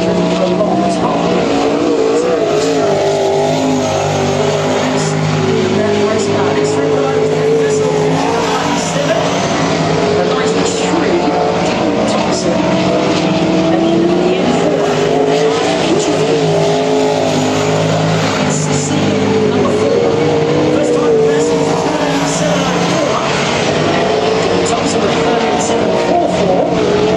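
A race car lapping a circuit during hot laps and time trials, engine roaring continuously and loudly with tire squeal through the corners, while a commentator talks over it.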